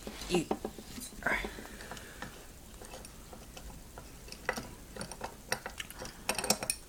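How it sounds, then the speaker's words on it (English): Valve being unscrewed from the hose of a homemade steam engine, heard as a string of small ratcheting metallic clicks and ticks, close and fairly quiet, with faint breathy noise between them. "let me unscrew the valve"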